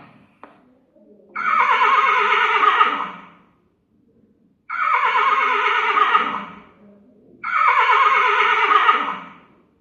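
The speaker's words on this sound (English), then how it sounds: "Let's see how horse makes a sound." A horse neighs loudly three times, each whinny lasting over a second and separated by brief silent pauses.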